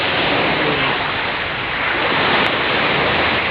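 Sea waves wash along a shore in a steady, loud, close rushing roar that barely varies in level, with no voices.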